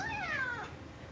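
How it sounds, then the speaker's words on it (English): A pet cat lets out a single short meow, close and clear, over quiet room tone. "I have a cat right here"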